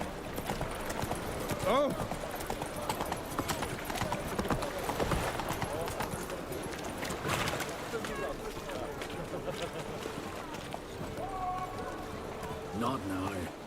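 Roach the horse gallops in The Witcher 3, with rapid, rhythmic hoofbeats up close as a voice speaks and exclaims over the running.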